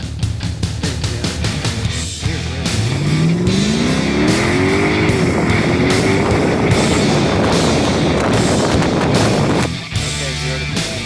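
A 2006 Mercedes SLK55 AMG accelerating hard from 0 to 60 without using the paddle shifters, its engine loud and close, the note climbing steadily through the gears under a roaring rush of road and wind noise.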